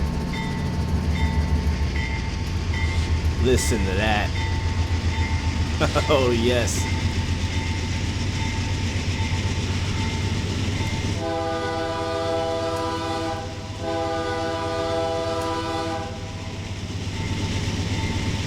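Heavy freight locomotive hauling a long coal train in Train Simulator: a deep diesel rumble throbs throughout while the horn sounds in long sustained blasts, with someone talking over it briefly.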